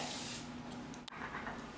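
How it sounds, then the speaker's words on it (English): Cooking spray hisses steadily from an aerosol can onto a roasting pan while a turkey is prepared, one continuous close burst with a brief break near the end. "So you're going to spray your pan generously so we don't have this baby stick."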